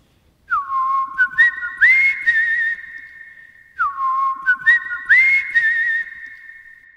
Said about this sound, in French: avant de donner, en sifflant, le signal du départ